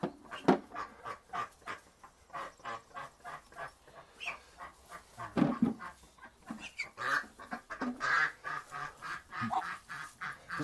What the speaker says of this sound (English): She's crazy duck, that one.